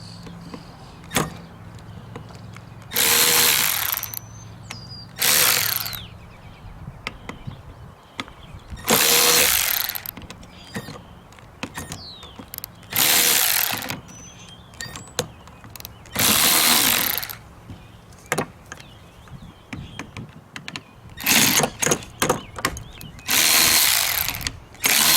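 A power tool works on the metric bolts holding the case of a Ryobi Expand-It cultivator, loosening them in several loud whirring bursts of a few seconds each, separated by quieter gaps with small clicks and handling noises.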